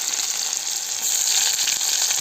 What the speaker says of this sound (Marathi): कांदा आणि कढीपत्ता ही फोडणी दिली आहे